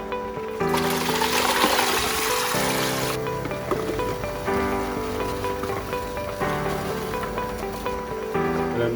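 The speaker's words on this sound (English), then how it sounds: "I'm just going to drain the apples into the colander" Apples poured and drained into a colander, a continuous loud rush of splashing water and tumbling fruit with a few surges and shifts, close by.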